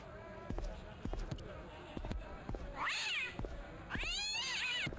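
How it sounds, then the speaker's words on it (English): A cat in the Broken Sword video game meows twice in rising, wavering calls, mixed with soft thumps and game sounds. "It's a cat."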